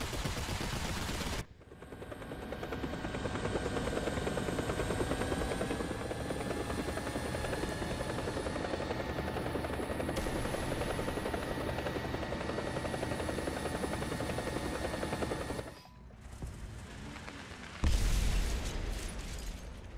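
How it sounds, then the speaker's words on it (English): A helicopter in the video game War Thunder drones loudly and steadily with a rising rotor whine for about fourteen seconds, then cuts off abruptly, followed by brief bursts of gunfire and combat noise. "Especially with a helicopter."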